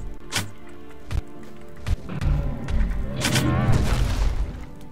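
A creature in Planet Explorers stomps the ground: sharp heavy thuds at first, then a rumbling, booming crash with debris, loud and close.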